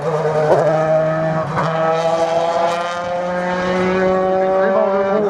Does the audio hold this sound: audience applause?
no